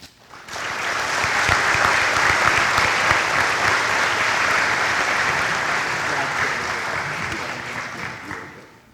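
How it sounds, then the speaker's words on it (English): Loud crowd applause for the high school graduating class of 2021 swells in quickly, holds strong and steady, then tapers off near the end. "if we could get a round of applause for the class of 2021"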